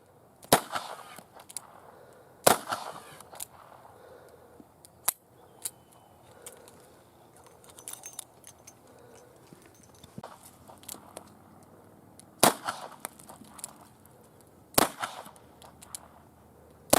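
A revolver fires wax-filled wadcutter rounds at fruit outdoors, giving several sharp, isolated cracks spread irregularly across the stretch, with quieter handling clicks and shuffling between shots.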